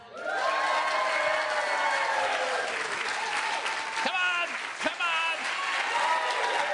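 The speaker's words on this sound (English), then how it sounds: "Give yourself a big round of applause." A live podcast audience breaks into loud, sustained applause with cheering and whoops, dense and continuous throughout, with a voice briefly rising above the crowd.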